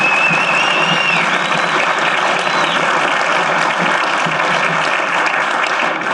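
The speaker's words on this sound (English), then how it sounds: "please give a strong round of applause to the teachers that have supported us in their classrooms." An audience at an urban education symposium applauds the classroom teachers, sustained even clapping throughout, with a faint whistle-like tone gliding above the crowd noise.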